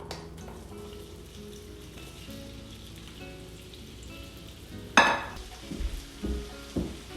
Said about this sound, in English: So it's time to start cooking potatoes. I'm going to saute it with olive oil